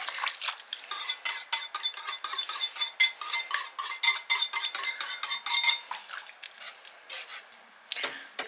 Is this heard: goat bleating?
no